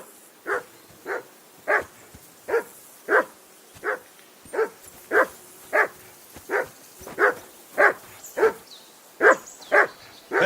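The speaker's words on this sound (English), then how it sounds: "Call off that mutt of yours!" A dog in the video game Kingdom Come Deliverance II barks repeatedly in an even rhythm, about sixteen loud, close woofs spaced roughly half a second apart with no talking.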